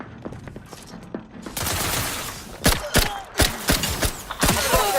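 Gunfire in The Outer Worlds 2, a volley of sharp, close shots in an irregular burst, with mechanical clatter and rattling between them.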